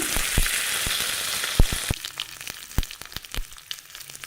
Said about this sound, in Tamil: கடுகு சேர்த்துக்கிறேங்க சீரகம் வந்து சேர்த்துக்கிறேங்க ரெண்டு வரமிளகாய் சேர்த்துக்கிறேங்க